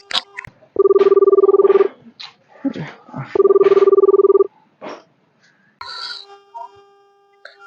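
A telephone rings in two long buzzing bursts, separated by voices talking, followed by a shorter electronic tone.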